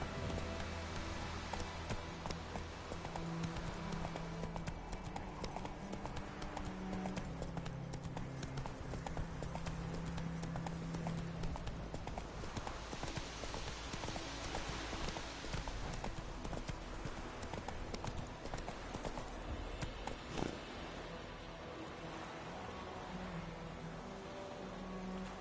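Hooves of Roach, the horse in The Witcher 3: Wild Hunt, beat in a fast, continuous galloping rhythm over a constant outdoor ambience, loud and close throughout with no talking.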